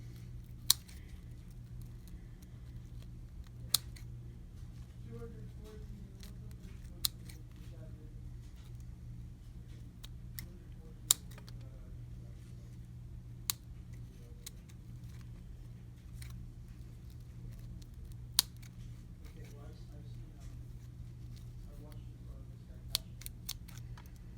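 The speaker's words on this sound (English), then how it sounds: "So we'll just go ahead and cut the inside again." Scissors snip through thick felt in a quiet room, giving sparse, sharp clicks spread a few seconds apart over a faint background hum.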